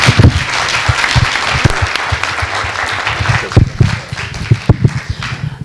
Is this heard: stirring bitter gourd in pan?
no